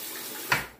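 Tap water runs steadily under a brief splash as a hand is rinsed, soft and close with no voices.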